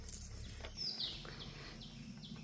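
Wild junglefowl rooster calling from a small patch of jungle in a Malaysian oil palm plantation, one brief sharp call rising over steady insect and bird background, moderately distant.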